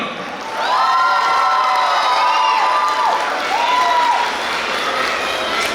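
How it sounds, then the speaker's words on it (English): Crowd cheering and applause at an awards ceremony swell up and hold steady, with high excited voices and whistle-like shouts carrying over the clapping. "Give a big round of applause to Arna."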